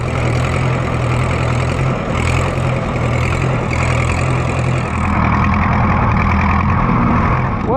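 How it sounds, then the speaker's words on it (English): An Oliver 60 tractor on steel wheels drives along, its engine running at a steady, rumbling low pace close by throughout, with a slight change in tone partway through and no voices. "we would go on a drive with the Oliver 60 now that it has steel wheels on"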